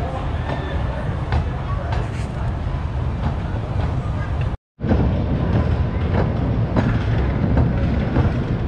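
The Pleasure Beach Express miniature train at Blackpool Pleasure Beach rumbles and rattles along steadily, with people chattering nearby throughout and a brief dropout midway.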